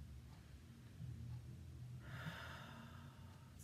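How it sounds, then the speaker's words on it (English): A single deep breath drawn in during a guided breathing exercise, heard close and quiet; a faint low murmur comes first, then a soft airy inhale near the end, with no one speaking. "Take a breath in."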